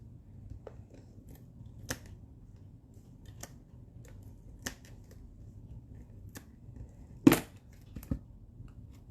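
Scissors snipping ribbon at an angle while making a Stampin' Up! Christmas stocking card, several sharp, quiet cuts spaced irregularly over a low background hum, with one louder snip near the end.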